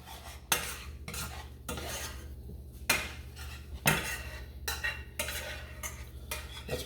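Orzo pasta being mixed with Pecorino Romano in a pan, a series of sharp spoon-against-pan clanks and scrapes repeating every second or so, close and fairly quiet, with no talk.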